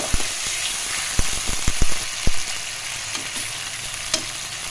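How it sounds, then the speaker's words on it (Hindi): Whole white cumin seeds roast in a hot pan, giving a soft steady sizzle broken by a handful of sharp scraping stirs and taps, close and moderately loud. "और अब इसकी हम करेंगे थोड़ी सी भुनाई, और इसी के साथ साथ मैं इसमें डाल दूँगी जीरा"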